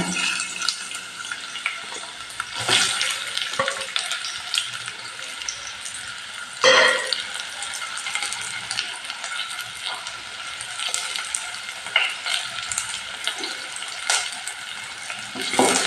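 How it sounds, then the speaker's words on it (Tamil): Onions for palak biryani frying in a pot, a continuous hiss and sizzle with occasional clanks and stirring scrapes, one sharp knock near the middle. "இப்போ வெங்காயம் ஒரு பெரிய வெங்காயம் இந்த மாதிரி பெசரி போடுங்க."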